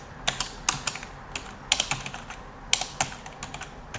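Fingers typing code on a computer keyboard, a quick irregular run of crisp, close key clicks with brief pauses between bursts, heard alone with no talking.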